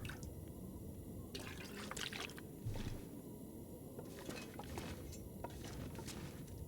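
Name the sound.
collecting toilet water in The Long Dark video game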